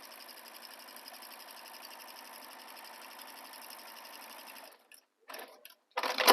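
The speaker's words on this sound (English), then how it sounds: "And you're just stitching directly on top of those lines you drew." A sewing machine runs steadily, stitching quilting lines along drawn marks on a fabric bag, with an even, continuous mechanical whir that stops near the end before brief handling noises.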